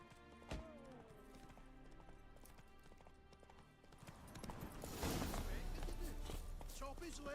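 Horse hooves clip-clop at a steady walking rhythm in The Witcher 3 Next Gen, amid a busy mix of game music and effects, growing louder and denser in the second half.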